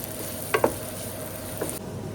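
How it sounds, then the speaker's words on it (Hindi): Chopped onions sizzle and fry in a pan for beef lasagna, a steady soft crackle with a couple of brief stirring clatters, close and alone without talk. "अब इसमें 2 मीडियम अनियन जो है चॉप की भी शामिल कर रहे हैं। प्याज को हम ट्रांसलूसेंट होने तक भूनेंगे।"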